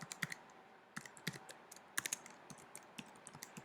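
An email address is typed on a computer keyboard, giving quick, close, irregular key clicks in short bursts with brief pauses between them and no voices.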